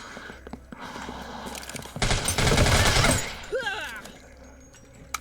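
A burst of gunfire in the zombie game Deathly Stillness, a dense crackling volley of about a second, loud and close, set between quieter stretches with faint voice-like tones near the end.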